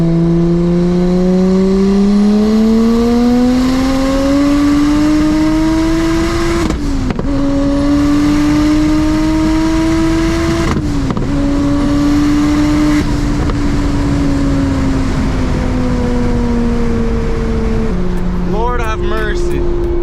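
A single turbo BMW 335i pulls hard in fourth gear, its engine note climbing steadily in long sweeps broken by brief shift dips, loud and close from inside the car, with boost and turbo flutter near the end.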